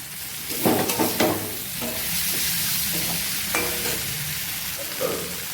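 Thinly sliced potatoes and pointed gourd frying in a pan with paneer give off a steady, close sizzle, broken early by a few clattering stirs of a utensil.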